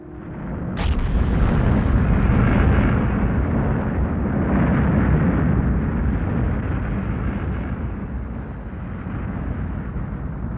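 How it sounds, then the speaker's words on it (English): A huge cinematic explosion effect representing the Big Bang: a sharp initial crack followed by a massive, sustained low rumble that roars loudly for several seconds before slowly fading, with no voices. "that was an explosion of unimaginable power"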